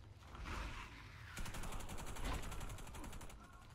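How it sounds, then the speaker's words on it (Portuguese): Rapid gunfire from a Stechkin APS pistol in the shooter game Warface, a dense exchange of repeated shots in quick rhythmic bursts, moderately loud with game ambience. "Mas agora eu fui obrigado a trocar tiro com esse cara."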